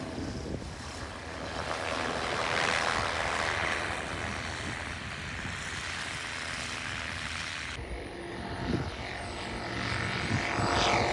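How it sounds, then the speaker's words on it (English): A small propeller airplane flies in cruise away from the airport pattern, heard from inside as a steady droning engine and prop hum mixed with broadband wind rush, the level swelling slightly at times, no speech. "As soon as we're clear of the pattern, I give the plane to Matt."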